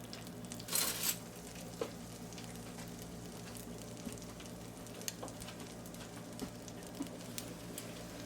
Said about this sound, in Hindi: 2 टेबल स्पून बटर डालेंगे, थोड़ा मेल्ट होने दें।